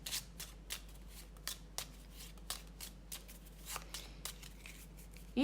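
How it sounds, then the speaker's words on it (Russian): A small deck of cards is shuffled thoroughly by hand for a fortune-telling spread, giving a run of crisp, close riffling bursts at a brisk, fairly regular rhythm, with no talking. "Тщательно тасуем маленькую колоду."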